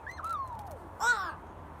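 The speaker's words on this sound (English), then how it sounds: "Crow." Two crow caws ring out alone and close: a drawn, falling call is followed by a brief, louder, raspy caw, then quiet.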